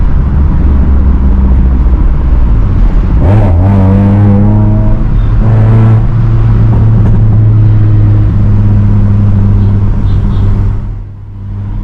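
A modified Hyundai i20 with a Stage 2 ECU remap and a full system exhaust revs loudly close by, its pitch climbing and falling through a few throttle blips over a deep, constant exhaust drone before it fades briefly at the end.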